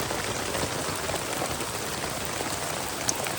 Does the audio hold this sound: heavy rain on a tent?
yes